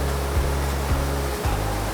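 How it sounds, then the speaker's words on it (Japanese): A stepped waterfall in Shimane cascades down in tiers, making a steady, full roar of rushing water that holds constant throughout with no voices. "これはでも一応滝と読んでいいんやな。"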